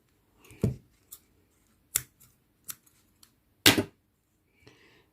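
Scissors cut yarn while an amigurumi alarm clock is crocheted. A few crisp, close snips come at irregular intervals, the loudest near the end, with no talking.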